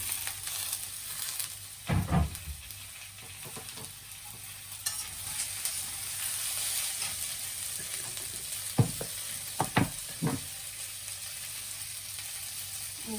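Potato and snake gourd frying in a wok: a steady soft sizzle runs the whole time, broken by a few sharp spatula knocks and scrapes, close by.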